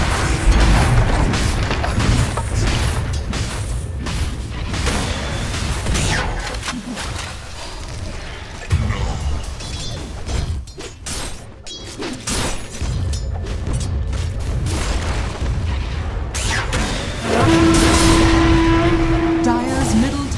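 Combat in Dota 2 as a tower comes under attack and is destroyed: continuous loud clashing, impacts and booming effects, with an announcer voice speaking over the din and a heavier crash near the end.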